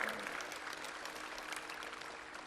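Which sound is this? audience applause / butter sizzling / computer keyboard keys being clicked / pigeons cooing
audience applause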